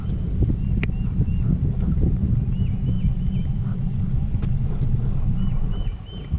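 Wind gusts buffet the microphone on a lake from a bass fishing boat, a loud steady low roar with faint chirps and ticks in the background.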